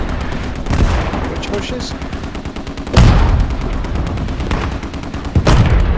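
Machine gun bursts in Post Scriptum, a World War II shooter, rattle on under a noisy battlefield, with sharp loud booms punctuating the fire and someone briefly speaking over it.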